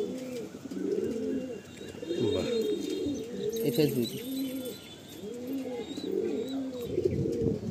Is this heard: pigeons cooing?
yes